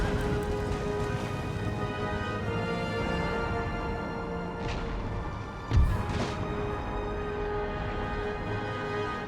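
Life Guards cavalry charge in the strategy game Empire: Total War, a dense battle din of galloping hooves, horse whinnies and clashing, with a single heavy crash or boom just before midway.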